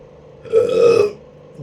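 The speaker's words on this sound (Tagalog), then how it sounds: "I was waiting for that burp." A single loud, close burp lasts about half a second during a mukbang meal, with a voiced, tonal belch and quiet room tone around it, and no talking.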